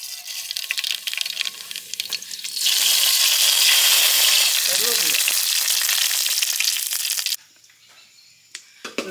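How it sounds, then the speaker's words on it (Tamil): Sudden loud crackling sizzle as mustard seeds hit hot oil, sustained for several seconds with popping, then cutting off abruptly to quiet. "எண்ணெய் சூடாகிடுச்சு, கடுகு போட்டுக்கலாம்."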